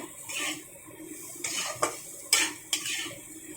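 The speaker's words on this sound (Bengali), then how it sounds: "কাঁঠাল দানাটা অনেকটাই ভাজা হয়ে গেছে।" Jackfruit seeds being dry-fried plain in a pan and stirred, with a utensil scraping and clinking against the metal in several sharp knocks over a soft, steady sizzle, close and alone.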